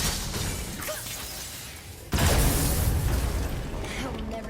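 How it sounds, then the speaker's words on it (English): Objects shattering in God of War on PS4 Pro: a quieter rumbling stretch is cut by a sudden, loud crash of breaking debris that bursts out and keeps crackling and scattering afterward. "I will never get tired of shattering things with this."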